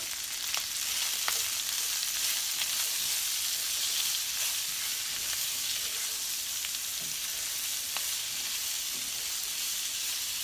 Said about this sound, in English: throw in my mixture of onions, red and orange pepper, and poblano peppers. And let that cook.